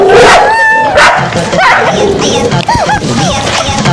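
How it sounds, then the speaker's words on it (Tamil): A dog barks and yips repeatedly at close range in quick, uneven bursts, loud and agitated. "நாய் இருக்குடா மேலே"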